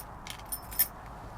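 Car keys for a 2007 Suzuki Carry KC 4WD kei truck jangle briefly and softly, with a couple of small metallic clinks close up in a quiet space.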